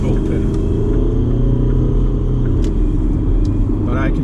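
A Detroit 4-53TIB turbocharged diesel engine idles steadily while warming up, giving a loud, continuous low rumble with an even mechanical throb throughout.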